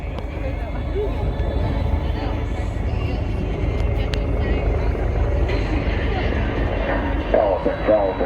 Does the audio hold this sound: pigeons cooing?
no